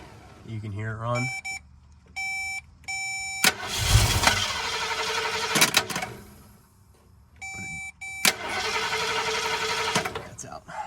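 A 1961 Ford shortbed 4x4 pickup truck engine runs in loud rough bursts, cutting out and restarting, with repeated beeping warning tones between runs and someone talking briefly at the start.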